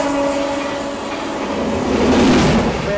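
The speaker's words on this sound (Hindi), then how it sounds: "ये देखिए कामाख्या रेलवे स्टेशन का प्लेटफॉर्म नंबर 4" Train at platform 4 of Kamakhya railway station, rumbling and rattling loudly and close with a steady tonal drone, swelling slightly toward the end.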